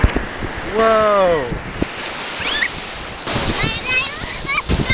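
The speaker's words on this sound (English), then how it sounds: "You're swimming in the ocean today." Ocean surf and splashing at St. Petersburg Beach, a steady washing hiss with wind buffeting the microphone, while people talk and exclaim close by.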